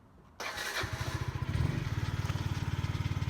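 A small scooter engine cranks and catches, then settles into a fast, even putter of idling, close and fairly loud.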